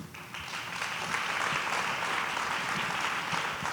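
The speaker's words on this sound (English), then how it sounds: "Thank you for the applause." An audience at a forum in Charleston applauds steadily for several seconds with dense, even clapping and no talk over it.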